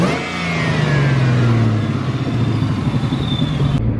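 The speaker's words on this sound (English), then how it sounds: "You can definitely hear the blower even inside the car when you're at a light or something." Supercharged 400HP Ford Mustang GT revving loudly, with the engine note rising and falling and a steady high blower whistle riding over it, heard close and without any talk.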